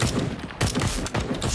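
Rapid video game gunfire, dense overlapping bursts of shots firing in quick clusters, loud and close, with a brief gap before the volleys resume.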